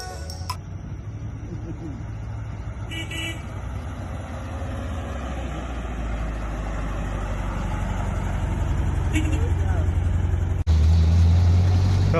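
A Toyota 22RE engine idles a little high in a motorhome, a steady low rumble running the whole time and swelling louder toward the end, with brief clicks and a sudden closer roar near the finish.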